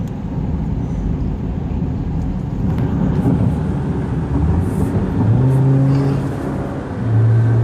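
A loaded dump truck hauling heavy rocks drives along a road near the Summit Bridge, giving a steady, loud engine and road rumble with a rising drone near the end.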